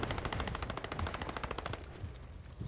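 Rapid automatic gunfire from a P90 submachine gun in the video game Modern Warfare, a fast even burst of dense cracking shots that keeps going for about two seconds and then trails off, no talk over it.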